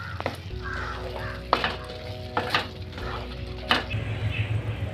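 Boiled chana dal tadka is stirred in a pan over low sizzling, with a spoon scraping and clinking against the metal three or four times, close and clear.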